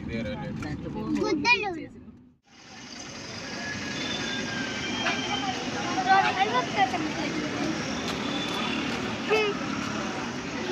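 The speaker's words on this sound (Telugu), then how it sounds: "అదిగో రైలు దాది" A train rumbles past with rolling wheel noise and faint metallic squeals, steady and fairly close after a brief quiet gap; voices are heard early on.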